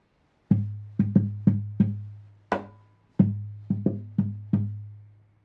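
A series of resonant tabla strokes, about ten hits in a syncopated pattern, each ringing briefly and decaying, played alone in quiet surroundings.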